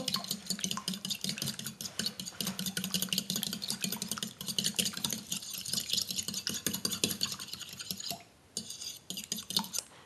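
A utensil rapidly beats carrot and pineapple muffin batter ingredients in a bowl, producing a fast continuous clatter and scraping up close that pauses briefly near the end before resuming.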